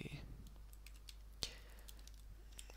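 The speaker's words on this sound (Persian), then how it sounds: "اگر بتونم من فارسی درست تایپ بکنم" Keys clicking on a computer keyboard while Persian text is typed, a light irregular patter of taps with one sharper click midway, close and quiet in a calm room.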